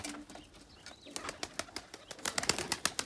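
Young pigeons flying out for the first time, a quiet patter of flapping wings in short bursts that grow busier and louder toward the end, with a faint coo early on.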